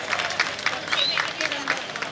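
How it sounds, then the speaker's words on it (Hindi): Audience applause at a wedding ceremony: a steady wash of many hands clapping for about two seconds, with a voice faintly under the clapping. "इनके लिए जोरदार तालियां बजा दीजिए"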